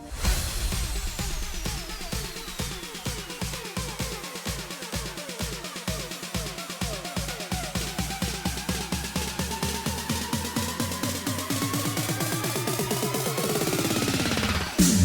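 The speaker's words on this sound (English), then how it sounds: "For the build-up, we have basic drums and effects which sound something like this." Progressive house build-up made in FL Studio: loud, steady drum hits with sweeping effects and a rising filtered synth, density building toward a peak at the end, no voices.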